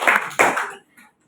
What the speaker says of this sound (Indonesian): Tepuk tangan dulu dong buat temen ya.